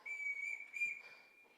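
A captain whistles to summon people: a sustained, clear whistled tone held steady, then a second shorter blast, heard near and alone in an indoor setting.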